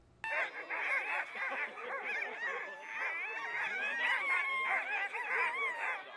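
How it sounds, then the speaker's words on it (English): Sled dogs at the Ashton Dog Derby race, a chorus of excited barking, yelping and whining from many dogs at once, continuous and fairly close, with some faint voices mixed into the commotion. "Local News 8 reporter Braden Wilson shows us how the dogs went off at the races"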